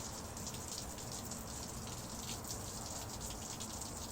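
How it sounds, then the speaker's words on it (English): Steady rain falls in a dense, even hiss of drops hitting surfaces, continuous and fairly close with no voices. "It's raining."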